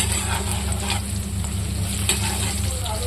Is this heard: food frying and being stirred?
yes